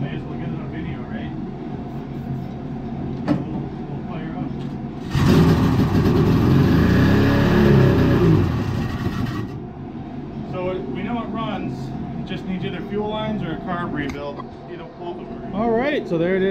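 A 1972 Ski-Doo Olympique snowmobile fires on ether and runs briefly in a loud burst of a few seconds, then cuts out, with someone talking before and after.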